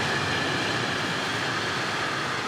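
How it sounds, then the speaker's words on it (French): A heavy freight train rolls past a house beside the railway line, a steady loud broadband roar and rumble that holds unbroken throughout, close and alone with no voices. "Et le pire, c'est le train de marchandises alors."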